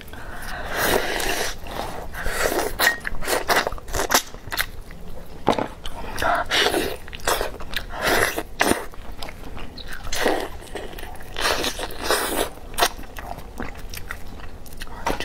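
Crunchy fried chicken heads are being chewed close up, with bones snapping in repeated sharp bites among wetter mouth sounds and soft breathing, and no talking.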